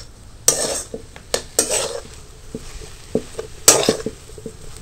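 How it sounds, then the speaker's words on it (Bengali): Grated boiled potatoes mixed with spices in a metal bowl, giving several sharp clinks and scrapes of a utensil against the dish between softer stirring sounds. "এবার আলুর সাথে মশলাটাকে ভালো করে মিশিয়ে নেব।"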